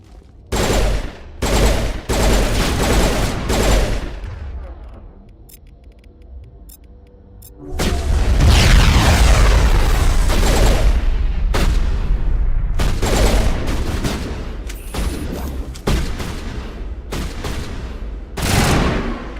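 Rapid bursts of gunfire from weapons in Mass Effect, loud close volleys that start and stop, with a brief lull before a long sustained stretch of firing and then more choppy bursts.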